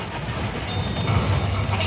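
A Universal Studios tour tram rolls along with a steady low rumble and faint wheel clatter, continuous and fairly near throughout, with a few high tones above it.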